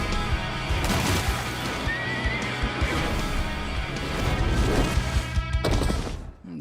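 A horse in an animated Disney film trailer gives a loud whinny amid clattering hooves, crashes and thuds, set against a busy orchestral score that swells and ends abruptly.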